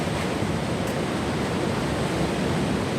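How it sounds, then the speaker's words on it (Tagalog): Steady roar of strong wind and heavy rain, a dense unbroken hiss that stays constant throughout with no voices. "Malakas yung hangin at saka ulan"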